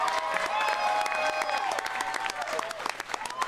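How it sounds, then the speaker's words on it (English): Fight-event audience at SSP 33 applauding both women fighters after three rounds, dense continuous clapping with scattered cheers filling the hall, bright sharp hand claps close by. "let's give both fighters a big round of applause"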